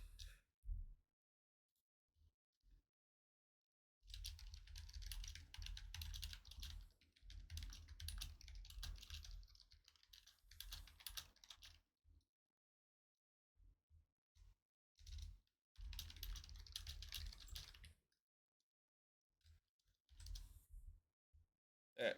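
Computer keyboard typing in bursts of rapid, close clicking, with pauses between runs and a few isolated keystrokes, in a quiet room.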